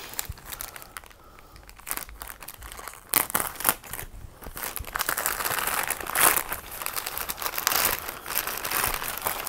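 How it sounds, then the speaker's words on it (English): Cardboard and paper packaging from a mailed box set crinkle, tear and rustle in close, irregular bursts as it is opened by hand, growing busier toward the end. "So we're going to open up the box and we're going to have a look."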